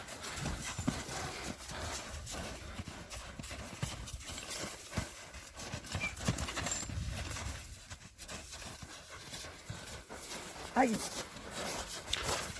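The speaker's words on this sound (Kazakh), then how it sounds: "кийинки атты тартып көргөзүп берүүнү биз баштай берели" Horse hooves clip-clop on the ground as the horse is led along. The steps come steadily at moderate distance and a whinny sounds near the end.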